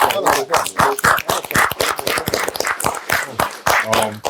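A small audience claps rhythmically at a podcast recording, sharp dense hand claps filling the moment alongside overlapping voices and talk.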